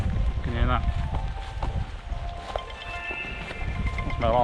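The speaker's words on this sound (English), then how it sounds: "That's my alarm telling me to get up for work." A phone alarm rings outdoors on a morning hike through Beddgelert village in Snowdonia, with repeating electronic tones and short rising chirps over steady wind and background rumble.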